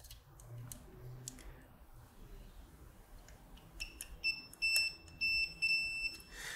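Multimeter continuity beeps while probing from an IC socket leg to a resistor base on an electronics kit board: steady tones switch on and off in short bursts during the last couple of seconds, after a few soft clicks over quiet room hiss.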